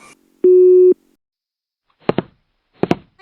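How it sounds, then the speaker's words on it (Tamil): An electronic telephone tone sounds once, steady and clear for about half a second, in an otherwise quiet room, followed later by two short noisy bursts. "என்ன இவ்வளோ நேரம் ஃபோன் அடிக்கி"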